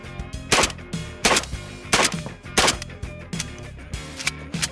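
A shotgun fires Winchester Universal birdshot in a rapid string of about seven loud, sharp blasts, each followed by the clack of the action cycling, close and without talk.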